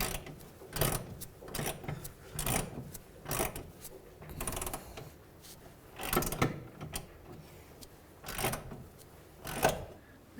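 A breaker bar works a 19mm rear control arm bolt on a 2011-2017 Honda Odyssey, giving repeated bursts of metallic clicking and creaking in uneven pulses, close and fairly quiet.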